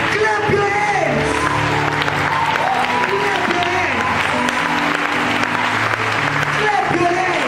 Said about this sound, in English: When you clap your hands, there is light that is going in every place. Clap your hands.